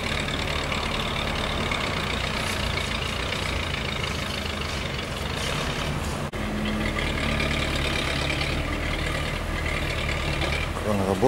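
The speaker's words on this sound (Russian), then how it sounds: "Кран работает." A construction crane running on a site near a former school, its low, steady mechanical engine drone continuing throughout at moderate distance with no pauses.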